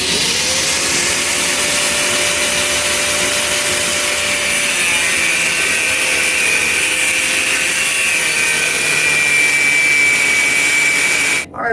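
A loud, continuous power-tool whine grinds through a steel lawnmower blade, holding a high shrieking tone until it cuts off abruptly at the end.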